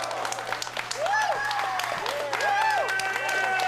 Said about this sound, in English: Hearing the applause of the fans in attendance here in Berwyn